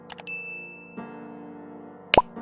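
A short ding plays near the end as a bell notification sound effect. It rings bright and loud over a steady background of music-like tones, which includes a long held high note earlier on.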